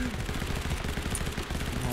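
Rapid automatic gunfire in a shooter game rattles out as a fast, even burst of closely spaced shots, loud and close throughout, with a voice faintly present under the firing.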